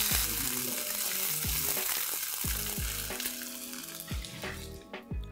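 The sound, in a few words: frying ginger garlic paste with mutton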